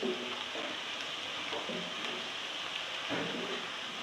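Garlic and ginger paste frying in a pan for palak chicken, a steady soft sizzle with a gentle crackle that holds evenly throughout, fairly quiet and close with no talk over it.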